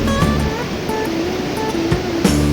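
Strong river water rushes loudly and continuously nearby, a dense broad roar with faint scattered tones, on a fishing outing for red kelah fish.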